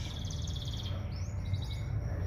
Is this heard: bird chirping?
yes